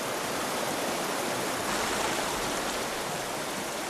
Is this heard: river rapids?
yes